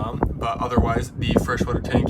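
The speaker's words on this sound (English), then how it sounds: "Sorry about the wind, it started to pick up." Wind buffets an outdoor microphone beside a 2022 Sunset Trail 242BH travel trailer, with a steady rumbling roar running under a man's continuous speech.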